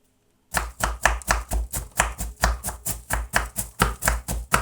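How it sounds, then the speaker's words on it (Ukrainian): A large knife chops dry, lightly toasted nuts on a board in a brisk, even rhythm of about a dozen sharp, close thuds after a short moment of silence. "Тому я ріжу, маю ось такий великий ніж і ось так."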